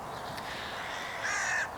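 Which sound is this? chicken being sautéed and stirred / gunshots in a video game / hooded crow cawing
hooded crow cawing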